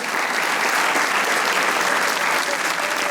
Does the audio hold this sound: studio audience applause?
yes